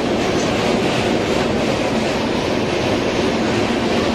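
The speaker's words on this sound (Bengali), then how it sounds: "আমাদের ট্রেন কিন্তু লেট করে ছেড়েছে, কিন্তু দেখো ট্রেনের ছাড়ার সঙ্গে সঙ্গে ট্রেনের স্পিড দেখো 130" The 12331 Himgiri Express runs at speed on the rails, heard from inside as a loud, continuous rumbling roar with a steady rattle, unbroken for the whole span.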